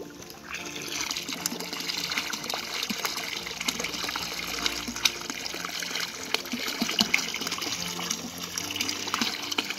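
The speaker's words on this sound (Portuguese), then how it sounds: "caindo água direto, ó" Spring water falling in a continuous splashing stream, steady and fairly close, trickling and gushing outdoors without voices.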